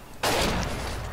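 Burst of gunfire from a machine gunner in the World War II shooter Forgotten Hope 2, Falaise Pocket map: a sudden loud onset followed by sustained dense fire that tails off slightly over about a second, with no talk.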